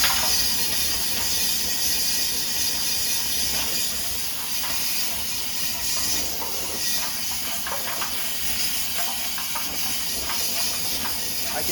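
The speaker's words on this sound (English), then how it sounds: "you blow it around with the air nozzle, and it soaks up all the liquid and everything inside there." Compressed air from a nozzle blows steadily inside a metal gas tank, a continuous broadband hiss with faint rattling of rags tossed around inside, close and unbroken throughout.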